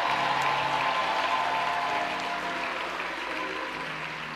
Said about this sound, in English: I need a better hand clap than that.